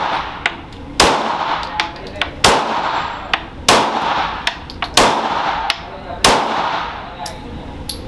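Glock 23 and Glock 19 pistols fire at a shooting range: loud, sharp reports land roughly every second and a bit, with fainter shots from other lanes scattered between them.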